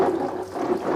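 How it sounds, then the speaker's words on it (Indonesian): Water splashes onto an umbrella screen-printing screen as it is rinsed of emulsion, a steady rushing spatter lasting about a second with no voices. "kita siram dengan air sama teman-teman, dari belakang, dari depan"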